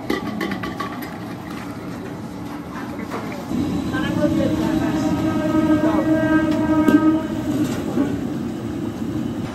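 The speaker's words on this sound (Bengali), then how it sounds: "আমাদের ঠিক পেছনেই হচ্ছে সোনারপুর স্টেশন। ট্রেনের শব্দ আপনারা পাচ্ছেন।" A train rolls past close to Sonarpur railway station, a steady low rumble with a rising, sustained tonal hum from the passing cars that continues through the clip.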